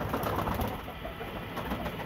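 Golden pigeons kept for breeding coo softly and briefly over a dense, steady background hiss, with no voices.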